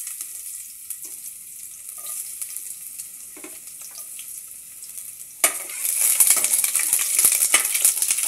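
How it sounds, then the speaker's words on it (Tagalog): Garlic dropped into hot cooking oil bursts into loud, close sizzling frying with crackling spatter; before that comes only quieter kitchen noise, then the frying holds steady to the end. "Mantika, ilunod natin una yung ahos."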